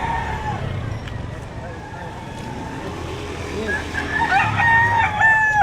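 Roosters crowing at a chicken sale in Batangas, a few crows rising near the end over a busy background with people talking and passing traffic.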